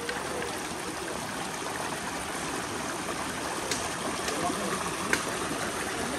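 A river stream flows near Bodnav Waterfall at Anse La Raye, St. Lucia, giving a steady, continuous broadband rush of water at even loudness throughout, with a few faint clicks.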